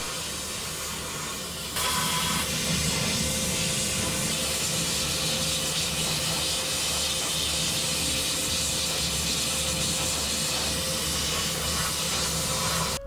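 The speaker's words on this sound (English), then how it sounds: "I'm using a hot degreaser washer to remove all of the grime and oil from the" A hot degreaser washer blasts spray over grimy, oily parts from a 70-year-old World War 2 era scythe. The steady, loud hiss of the spray kicks in suddenly after a short quieter stretch and runs without a break.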